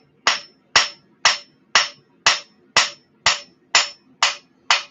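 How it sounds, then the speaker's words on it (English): Hammer blows land on the spine of a Southwestern Bowie knife blade, ten evenly spaced, sharp ringing metallic strikes, loud and close with no talking. "Hammering into the spine."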